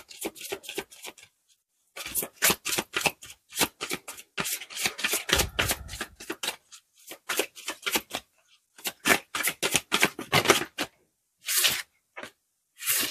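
Tarot cards are shuffled by hand in a quiet room, giving repeated bursts of crisp riffling and flicking with short pauses between, close and clear with no talking.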